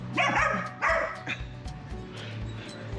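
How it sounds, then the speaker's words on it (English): A dog lets out a quick run of three yappy barks close by, then falls quiet over a low background hum. "Is she barking at you?"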